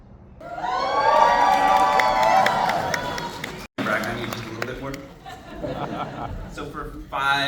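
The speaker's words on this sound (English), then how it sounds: "the Paul Stamets crowd is like all the way around the block here in Olympia" A large crowd gathered around the block for a Paul Stamets talk in Olympia, Washington, at sundown: loud overlapping chatter and cheering voices, with children shouting and lively murmuring close by.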